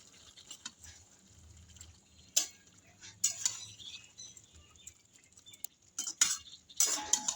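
Pumpkin greens being stirred with homemade kasundi in a pan: scattered metal utensil clinks and scrapes against the pan, a few sharper knocks spaced through a quiet kitchen background, no talking.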